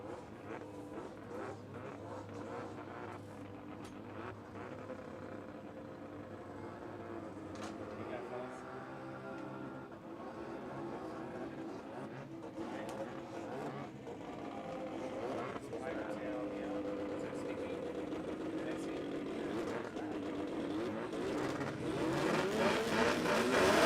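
Toyota Land Cruiser turbo diesel with nitrous at a no-prep drag strip, a rumbling engine building steadily louder over a long stretch, heard with a commentator talking over it.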